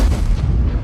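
A tank cannon shot fired at a T-71 in a tank battle video game, one deep, loud, booming report with a low rumbling tail, close and unmasked by talk.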